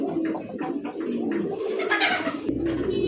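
American fancy pigeons coo in repeated soft, throaty bursts, close by and fairly quiet, with a few brief rustles and no talking.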